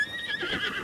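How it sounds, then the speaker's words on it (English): The golden horse in the video game Zelda: Tears of the Kingdom gives a brief, clear neigh that rises and wavers for under a second, alone and moderately loud. "The golden horse."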